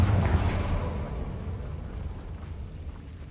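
A Confringo fire spell explodes in the video game Hogwarts Legacy, a loud, deep rumbling blast at the start that slowly fades into a roaring decay with no speech.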